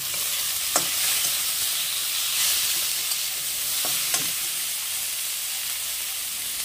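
Chopped tomatoes fry in a hot pan while cooking an ivy gourd (kundru) dish, giving a steady, even sizzle and hiss with a few soft scrapes as they are stirred.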